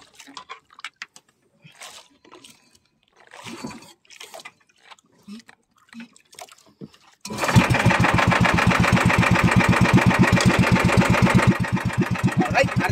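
An engine on a boat at sea during a fishing catch-and-sell trip cranks and catches, then runs loud and steady with a rapid, even throb, following a stretch of quiet knocks and clatter.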